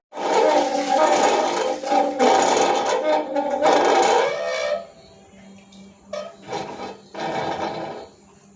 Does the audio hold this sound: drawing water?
yes